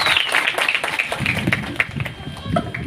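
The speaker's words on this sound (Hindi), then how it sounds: "सबके लिए जोरदार तालियां बजाइए।" Audience at a school gathering in Islamabad clapping, a dense patter of many hands at close to moderate distance with scattered voices underneath.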